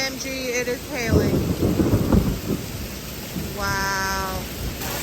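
Hail pelting a parked car during a massive storm, a dense steady rattle on the body and roof, loud and close, with excited voices over it and a high cat-like squeal.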